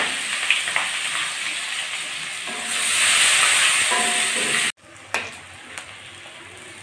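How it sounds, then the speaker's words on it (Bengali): Cinnamon, bay leaf, cloves and chopped onion hit hot oil with a loud sizzle that surges as the onion goes in, then cuts off abruptly and gives way to a few quieter clinks and stirs. "দারচিনি, তেজপাতা, লবঙ্গ ফোড়নে দিয়ে দিচ্ছি, সেই সঙ্গে পেঁয়াজ কুচিগুলো ঢেলে দিচ্ছি"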